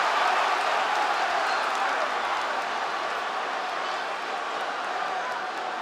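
A UFC arena crowd watching Poirier fight Makhachev keeps cheering and applauding, a thick continuous roar that eases slightly over the seconds, with faint commentary-like voices underneath.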